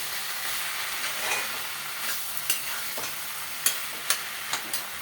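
Food being stirred while it fries in a pan: a steady sizzling hiss with scraping strokes and sharp taps of the utensil that come more often toward the end, close and fairly quiet.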